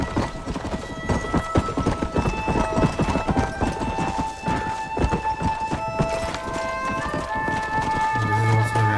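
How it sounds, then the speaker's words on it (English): Horse hooves clip-clop steadily in the Red Dead Redemption video game, a dense run of close, rhythmic strikes lasting throughout, layered over tonal game ambience and a few whinnies. "Those are some nice horses, man"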